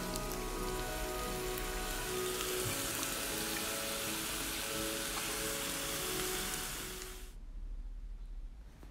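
Frozen rice stir-frying in a pan with soy sauce and teriyaki sauce for shrimp fried rice, a steady loud dense sizzle close up that drops off sharply near the end into a quieter hiss.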